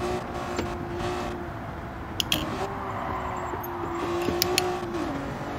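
A 2002 Honda NSX R, a mid-engined rear-wheel-drive car, is driven hard around a lap in Gran Turismo, its engine holding a steady, moderately loud drone with slight pitch shifts and occasional brief clicks, no talking.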